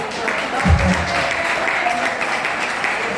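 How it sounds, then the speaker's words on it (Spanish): A church congregation applauds, a steady broad wash of clapping with a brief low thump near the start, mixed with murmured voices throughout. "Dígame un aplauso al Señor, hermano."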